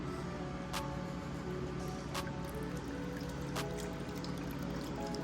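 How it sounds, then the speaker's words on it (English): Detailing product poured from a gallon jug into a bucket, a steady continuous liquid stream running throughout at close range with a few sharp splashy ticks. "So I'm gonna pour this inside my my bucket"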